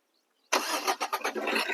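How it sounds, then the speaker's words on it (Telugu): Engine of a 2018 Maruti Swift Dzire car catching on a single start after brief silence, a sharp onset followed by a pulsing, settling run as it begins to idle, close and clear. "ఒకసారి స్టార్ట్ చేయండి అండి కార్."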